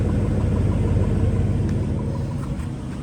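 A restored car sits idling, its engine holding a smooth, even low rumble up close that fades slightly toward the end, with no voices.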